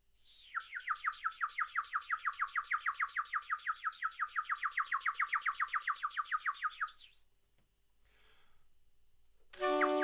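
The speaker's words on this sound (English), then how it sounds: "The birds felt the change and kept tweeting happily" Birds tweet in a fast, even run of bright, repeated chirps lasting several seconds, close and clear, before the sound falls nearly silent and a brief burst follows.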